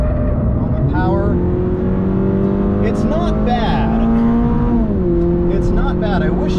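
A 2022 Toyota GR86 engine drones loudly from inside the car on a race track, its pitch climbing and then dropping sharply as it shifts gears, with the tone settling lower afterward.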